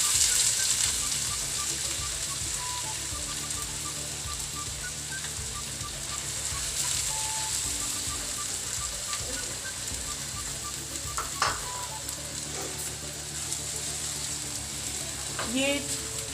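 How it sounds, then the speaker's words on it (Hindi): Finely chopped onions fry in hot oil in a home kitchen, a steady close sizzle with occasional stirring scrapes and small clinks of a utensil against the pan. "मैंने इसमें ऑयल डाल दिया है और ये मेरे पास जो प्याज हैं चॉप हुए हुए ये भी मैं डाल रही हूँ।"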